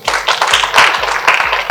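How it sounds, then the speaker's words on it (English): An audience at an end-of-year civil society event bursts into loud, close applause, a dense continuous patter of many hands with a few heavier thumps. "We should clap for that."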